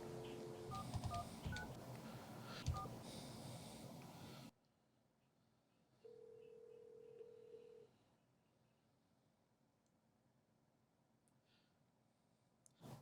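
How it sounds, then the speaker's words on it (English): Desk phone keypad dialing an extension with DTMF tones on a 3CX office phone: a quick burst of several distinct beeps up front, then a single sustained tone later, with quiet pauses between. "From there, we're able to dial any other extension."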